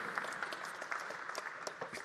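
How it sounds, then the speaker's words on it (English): Applause rises from a conference audience after a talk, a fairly faint but continuous patter of many hands with a few sharper claps standing out, and no voices over it. "One more time, big round of applause."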